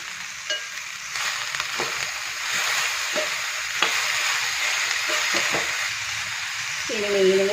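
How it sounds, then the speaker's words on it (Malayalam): Chopped bitter gourd goes into a pan with ginger for a dried-fish thoran, frying with a steady, close sizzle broken by stirring knocks and scrapes, while someone talks over it. "ഇനി നമുക്കിതിലേക്ക് അരിഞ്ഞു വെച്ചിരിക്കുന്ന പാവയ്ക്കയും കൂടെ ചേർത്ത് കൊടുക്കാം"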